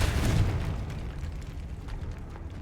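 A Confringo fire spell in the game Hogwarts Legacy bursts in a loud explosive boom at the start, then its rumble tails off into a steady low roar.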